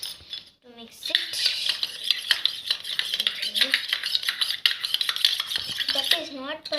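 A utensil clinks and scrapes briskly around a container while two paint colors are stirred together for slime, the rapid tapping continuous and close, with brief bits of voice at the start and end.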